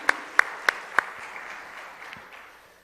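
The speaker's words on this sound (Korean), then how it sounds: "큰 박수로 격려해드리도록 하겠습니다" A church congregation claps together, with a few sharp loud claps at the start giving way to a softer patter that fades out over a few seconds.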